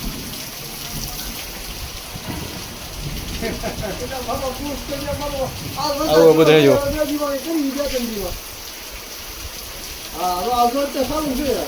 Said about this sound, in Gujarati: સતત એક કલાક ને દસ પંદર મિનિટ થી વરસાદ ચાલુ છે